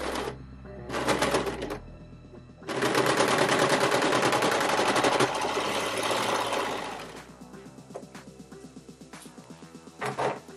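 Brother 1034D serger sewing through eight layers of denim, bursts of rapid mechanical stitching with short pauses, one long strained run, then slower halting stitches near the end, close and loud with no talk.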